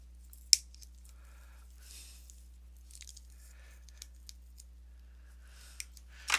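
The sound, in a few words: cutting craft wire with scissors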